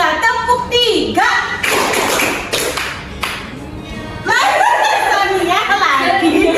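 A classroom group clapping in a rhythmic ice-breaking clap game, quick sets of sharp hand claps mixed with children's talk and laughter nearby.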